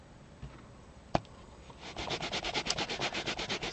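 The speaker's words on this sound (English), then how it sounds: "So I use my Stampin' Scrub to wash and dry." Stamp being scrubbed on a Stampin' Scrub pad to wash and dry it, a single sharp tap followed by a quick run of rhythmic rubbing strokes, close and moderately loud.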